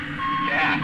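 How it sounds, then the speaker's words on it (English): Repeated electronic beeping from a robot prop in an old-time radio drama performance, a steady high tone pulsing over a continuous background, fairly loud and close. "The thing keeps beeping and beeping and beeping"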